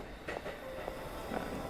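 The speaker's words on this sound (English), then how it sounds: "would it be a good idea to go on that train" In the game Beyond Citadel, a train rolls past with a steady low rumble and a few faint rhythmic clacks, heard briefly at a distance with no talking.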